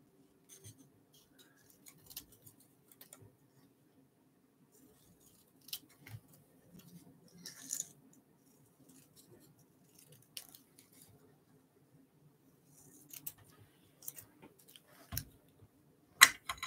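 Scissors snip through paper, cutting out a square for a handmade zine, in a few faint, sparse clicks and crisp cuts against a quiet room with low hum.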